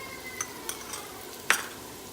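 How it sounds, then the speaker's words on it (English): Onions and garlic saute in olive oil for cioppino, with light stirring scrapes and a soft sizzle, plus a sharper clatter of a utensil against the pan partway through, close and unaccompanied by talk. "So we've had the onions sauteed till they're tender in that olive oil."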